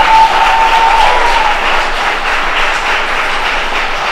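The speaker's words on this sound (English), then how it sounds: "Can we get a round of applause for all of our performances tonight?" An audience at a performance festival applauding its performers at night, a steady, dense roar of clapping that holds evenly throughout, with no voices standing out.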